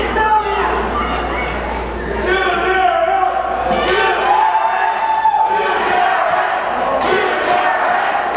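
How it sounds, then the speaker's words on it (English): A wrestling crowd cheers in support of a wrestler, a loud sustained roar of voices with shouts and chants rising and falling, some sharp slams and bursts punctuating the noise. "the crowd showing their support for an Ultra X and a UCW-Zero mainstay"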